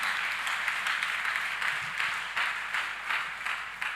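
A church congregation at a New Year Sunday service claps and cheers together, a brisk, rhythmic wash of many hands pulsing steadily throughout, with no voices speaking over it.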